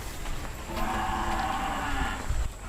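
Madura cattle at a livestock expo give a long, drawn-out moo that holds steady for over a second, sounding fairly near over a constant murmur of crowd and background noise.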